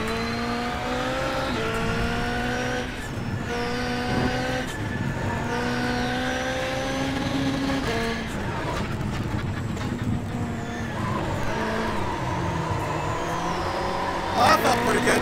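Ford Fiesta Rallycross car in iRacing rallycross racing, its engine revving up and down through repeated gear changes with squealing tires and skids, loud and close, with talk over parts of it.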